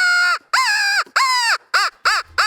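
A handheld crow call worked by a turkey hunter gives six loud, close caws, the first few long and drawn out and the last ones shorter and choppier, with short gaps between them and no talking.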